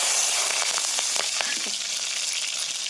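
Constant crackling sizzle of mustard seeds, urad dal and chana dal frying in hot oil, with scattered small pops, close and fairly loud.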